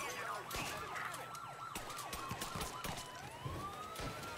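Police car sirens wail in the Mafia III video game, rising and falling in rapid cycles against a busy background of game sound, fairly faint overall.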